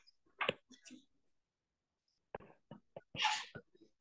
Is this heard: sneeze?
yes